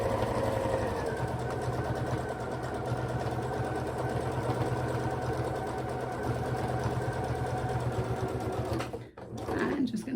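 Domestic sewing machine running steadily for about nine seconds, stitching down the side of fabric fold-up pockets on a handmade advent calendar, a continuous close whirr that briefly stops near the end.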